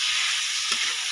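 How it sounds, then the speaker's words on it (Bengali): Snails and potatoes being stir-fried with spice paste in hot oil, a continuous loud sizzle with a brief stirring scrape partway through. "আলু আর গুগলির সাথে মশলাটাকে খুব ভালো করে কষিয়ে নেব।"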